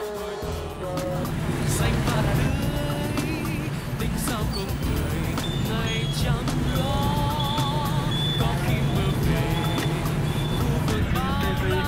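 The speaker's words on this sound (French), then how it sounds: "motos, scooters, vélos, voitures, bus, camions se frôlent dans un balai sonore incessant" Busy Saigon traffic of motorbikes, scooters, bicycles, cars, buses and trucks fills the scene with a dense, continuous roar, with horn-like tones and passing engines throughout.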